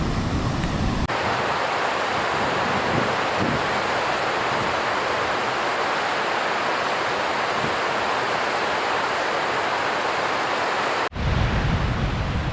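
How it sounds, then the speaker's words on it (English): A mountain waterfall in South Canterbury roars steadily close by, a dense, loud, unbroken rush of falling water that fills the whole clip and shifts abruptly near the end. "there's this very cool waterfall coming down up here, quite close to me"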